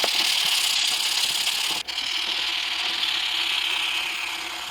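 Sandpaper rubbed by hand along a steel knife blade during stock-removal knife making, a steady close abrasive hiss with one brief pause, running alone without voices.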